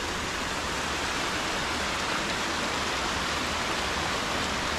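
A small waterfall beside a hiking route up Fløya in Tromsø, Norway, roaring as a steady, dense hiss of falling water, close and constant, with no voices over it.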